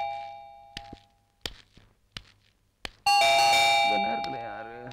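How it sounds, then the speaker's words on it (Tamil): Electric calling bell at a house door in a Tamil film scene, with several short taps and thuds before a loud, sustained ringing chime rings out and slowly fades. "இது போன் பெல் இல்லடா, காலிங் பெல்"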